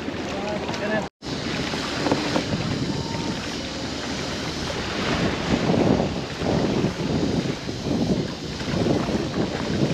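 Boat ride to a beach at El Nido, Philippines: a steady broadband rumble of engine, wind and water runs loudly throughout, with one brief dropout near the start and possible faint voices underneath.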